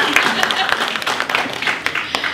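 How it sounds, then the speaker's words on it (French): Audience applause fills the room, dense clapping with sharp individual claps standing out, close and fairly loud, with some talk underneath. "Monsieur Zadi, s'il vous plaît, on applaudit."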